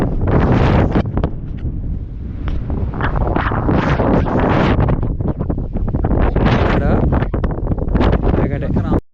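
Strong wind at Horsley Hills buffets the microphone in a loud, continuous roar with ragged gusts that hardly let up across the whole stretch.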